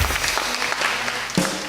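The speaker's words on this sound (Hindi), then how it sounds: "तालियां" A studio audience at a talk show interview gives a short burst of brisk clapping, loud and close, lasting under two seconds.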